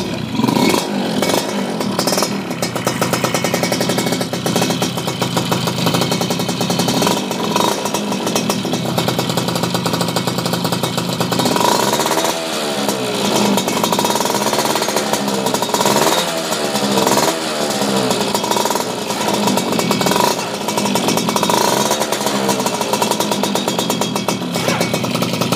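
A 2004 Yamaha F1ZR two-stroke motorcycle after servicing and porting, started and revved hard, its loud ringing, crackling engine rising and falling through repeated throttle blips, running alone and close.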